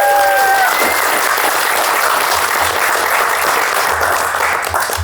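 Loud, dense audience applause and cheering fill a stand-up comedy showcase, a steady roar of many hands that holds throughout at close range.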